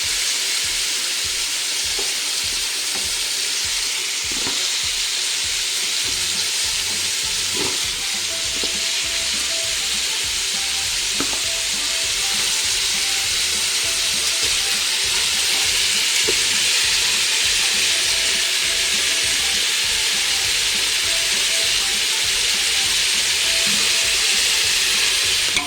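Tomatoes and green chillies fry in a pan for a biryani-style rice dish, giving a steady, loud sizzle across the whole stretch, with faint scrapes of stirring now and then and no voices.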